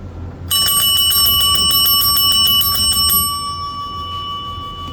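A bright bell rings continuously in a rapid metallic trill for about three seconds, loud and close, then cuts off, leaving a faint lingering ring over low room noise.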